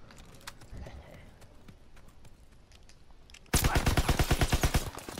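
Rapid automatic gunfire from a firearm in the Call of Duty: WW2 video game, a loud, fast burst of shots that starts abruptly after quieter scattered clicks and faint talk.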